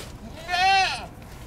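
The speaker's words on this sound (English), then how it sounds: "You gonna pet the goat?" A goat at a village museum in Dar es Salaam, Tanzania, lets out a single close, wavering bleat lasting about half a second amid low background noise.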